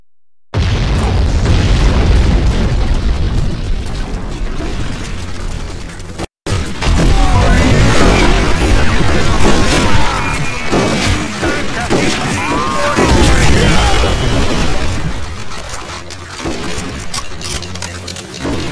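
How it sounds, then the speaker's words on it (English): Artillery fire in the Red Dead Revolver video game, a long barrage of heavy booms and bursts rolling almost without pause, loud and close, with a brief silent gap near the start and voices mixed in. "Prepare the artillery!"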